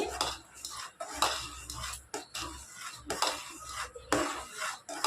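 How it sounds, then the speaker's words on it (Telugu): Spoon stirring sugar syrup in a metal pot for Sankranti ariselu, repeated scraping and clinking strokes in a steady rhythm, close and fairly loud, with no talk. "ఈ పాకం ఇంకా రాలేదండి పాకం వచ్చే వరకు ఇలా కలుపుతా ఉంటే"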